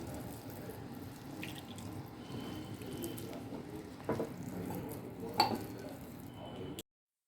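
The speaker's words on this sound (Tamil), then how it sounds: "அதுலேயே கொஞ்சம் கொஞ்சமாக தண்ணி ஊற்றி தாங்க பிசைகிறேன்" Water poured a little at a time into wheat adai dough while it is kneaded by hand in a kitchen, giving a faint, close trickle and soft wet splashes over a low background hiss.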